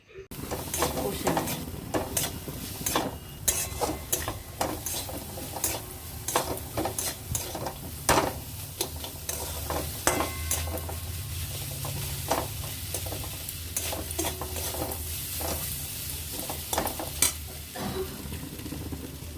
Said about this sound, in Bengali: এরপর সমস্ত উপকরণ বেশ কিছুক্ষণ ভালো করে কষে নেব